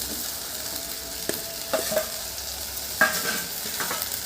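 Potatoes dropped into a spice paste frying in oil for a Bengali village-style dish, a continuous sizzle with several sharp clatters and stirring bursts close by, no talking.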